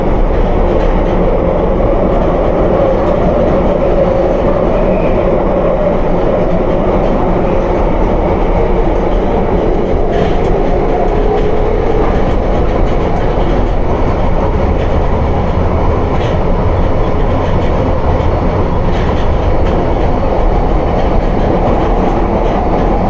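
London Underground Piccadilly Line train running through a tunnel at night and braking on the approach to Holborn, with a steady loud rumble, rhythmic wheel clatter and a faint brake squeal, no voices.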